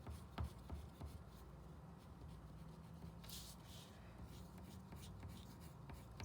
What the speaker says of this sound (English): I'm just coloring in a circular direction, and I'm turning my paper as I color